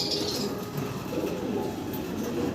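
An American Shadel Lakha pigeon coos in low murmuring phrases under a constant background hum, close by, with no clear talking.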